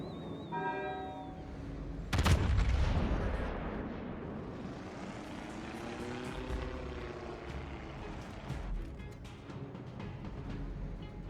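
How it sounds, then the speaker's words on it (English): A spotting plane launches in World of Warships with a sharp, loud burst and crackle, followed by a droning propeller hum that rises and falls. A rising whistle tone comes just before it. "I'll pop spotting plane again"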